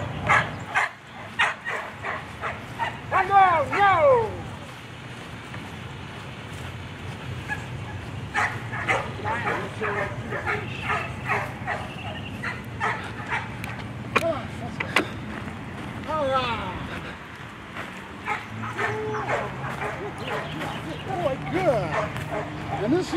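A working dog barks repeatedly during outdoor functional training, sharp bow-wow barks and yips coming in bursts, loudest early on, with someone talking to the dog between them.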